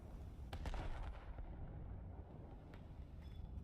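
Heavy naval gun salvos from the battleship Kongou in the War Thunder naval battle game, a couple of deep booming blasts early on followed by sustained low rumble, loud and close with no talk.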